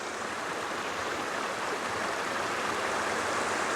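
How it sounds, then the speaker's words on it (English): Steady, continuous rush of flowing water from a nearby stream running down to a creek at Seven Tubs Nature Area, Wilkes-Barre, Pennsylvania, broadband and unbroken, with no voices. "Here's another stream going down to the creek"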